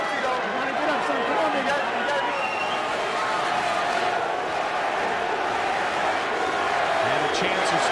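A packed arena crowd at a Randy Couture vs Tito Ortiz MMA fight chants and roars continuously, a dense sustained wall of voices with a commentator talking over it.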